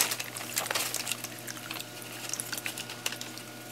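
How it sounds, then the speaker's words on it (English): Salt is poured into ten gallons of water to mix a saltwater aquarium, heard as faint close granular patters and splashy bursts coming in uneven clusters, with no voices. "Now all we have to do is add the salt."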